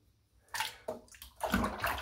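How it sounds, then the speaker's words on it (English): A bar of shaving soap is rinsed in water at a barbershop, giving several close sloshing and splashing bursts that grow busier toward the end, with no talking. "Give the soap a little rinse in the water, it should be good to go."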